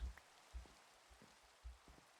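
Rain in the Minecraft modpack Hexxit, a faint hiss of falling rain with a few soft low thumps spaced irregularly across it.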